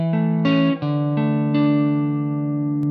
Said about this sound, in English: listen to how nice these two chords sound next to each other.